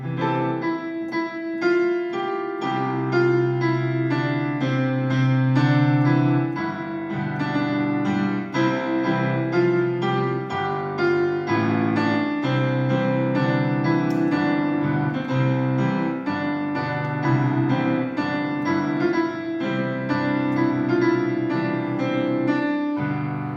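An excerpt of Beethoven's Ninth Symphony: orchestral music with full, sustained harmonies and a moving melody, playing at an even, fairly loud level for over twenty seconds with no talking.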